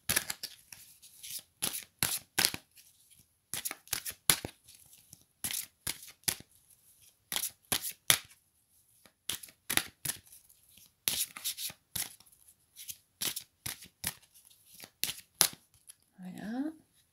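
Tarot cards being shuffled and drawn, a rapid series of crisp riffling and slapping bursts repeated throughout, close and fairly loud, with a brief voice near the end.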